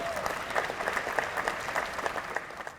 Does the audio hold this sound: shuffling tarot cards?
no